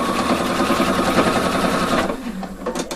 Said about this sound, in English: now I'm just stitching once again exactly the same seam. And now it's through all layers.